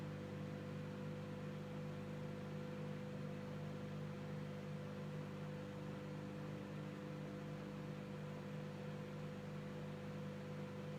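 A microwave oven runs steadily while heating a banana, a constant low electrical hum and fan whir, faint and unchanging throughout with no voices.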